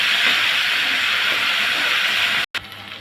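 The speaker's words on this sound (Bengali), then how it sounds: "এখন দিয়ে দেবো কচুরমুখীগুলো, আমি একটু ভেজে নিব" Taro roots (kochur mukhi) frying in hot oil in a pan just used for fish, giving a loud, continuous hiss that cuts out briefly near the end and then resumes.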